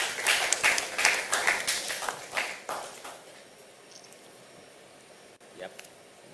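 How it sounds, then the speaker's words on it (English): Audience applause greets a Ghana Health Service official taking the podium at a maternal health financing dialogue, a dense burst of clapping for about three seconds that fades into quiet room tone. "A round of applause for him."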